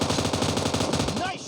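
Automatic gunfire in the battle royale game PUBG rattles in a fast, loud continuous burst of shots that stops abruptly near the end.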